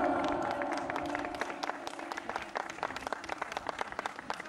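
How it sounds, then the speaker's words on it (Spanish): Audience applause at a farewell performance for a singer, a quiet spread of claps and crowd noise under a sustained tone, thinning out into scattered individual claps by the end. "¡Fuertes aplausos!"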